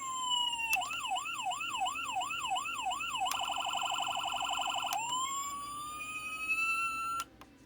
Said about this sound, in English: Turn on the siren so you can see.